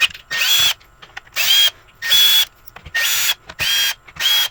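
A power drill backing screws out of the stock bumper on a Pint, in six short, close whirring bursts of roughly half a second each, separated by brief pauses.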